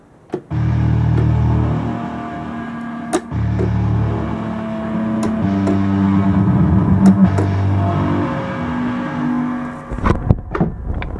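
Synthesized background sound effect built from a processed piano for game music, a low droning, rumbling texture with shifting tones and scattered sharp clicks and bursts, continuous and fairly loud without speech.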